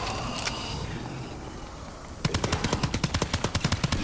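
Rapid video-game gunfire with unlimited ammo during a power outage on a carrier level, a fast even burst of loud close shots starting midway after quieter background noise and a couple of earlier isolated shots.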